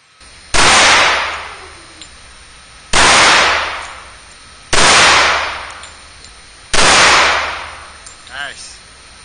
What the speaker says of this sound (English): Yeah, that's good shooting.